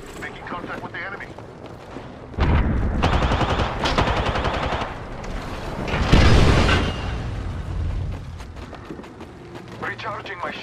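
Rapid automatic gunfire and bursts of shots in the battle royale game Apex Legends, loud and close in several volleys with booming impacts, with in-game voice lines heard alongside.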